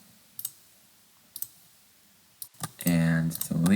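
Mouse clicks while shift-selecting dimensions for deletion in Autodesk Inventor CAD software, a few sharp separate clicks spaced apart, followed by a louder burst of speech near the end.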